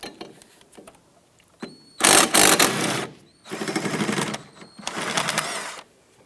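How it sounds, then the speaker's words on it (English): Ratchet with a 15mm socket loosening and pulling a bolt from a 2005-2007 Ford Five Hundred, heard as close, loud bursts of rapid clicking separated by short pauses, with some lighter handling noises before them. "Using your 15mm socket, go ahead and loosen and remove this bolt."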